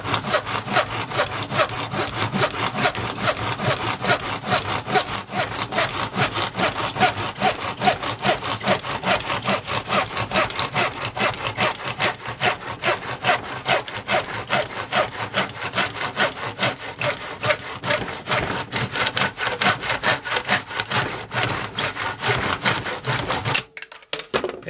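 A hand saw cuts through a metal tube ring in fast, steady back-and-forth strokes, loud and close, continuing without a break for over twenty seconds before stopping abruptly.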